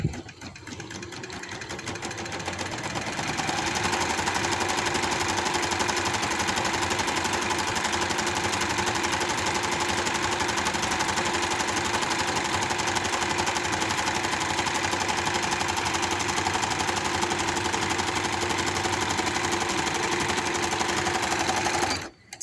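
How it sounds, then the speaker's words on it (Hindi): A sewing machine stitching a seam on a baby boy's hoodie, running as a steady, fast, continuous mechanical whir at close range for about twenty seconds, then stopping abruptly. "यहाँ से डबल पैर का मार्जिन अंदर देते हुए मैं इसकी सिलाई शुरू कर देती हूँ और एंड तक ऐसे ही इसे सिलाई लगा दूँगी।"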